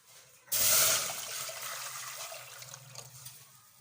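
Cold water poured into a pot to start Kashmiri pink tea, a sudden loud gush that settles into a steady trickling stream, close and clear with no voices.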